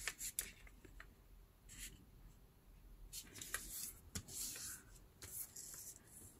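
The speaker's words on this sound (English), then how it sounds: "So I'm gonna grab one book page, fold it on half," An old book page folded in half for a craft project, giving soft papery crinkles, a few sharp creasing swipes and light rustling up close, quiet with small pauses between movements.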